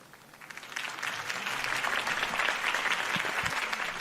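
A crowd in a video game applauds steadily, a dense wash of clapping that swells in the first second and holds at an even level.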